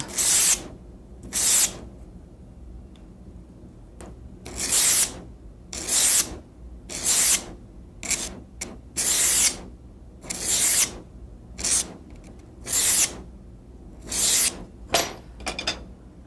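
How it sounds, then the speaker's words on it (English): A polishing stick rubs along the sear edge of a 1911 pistol in about a dozen short, evenly spaced scraping strokes, close up and crisp, with near silence between strokes. "Not a file, just a polishing stick."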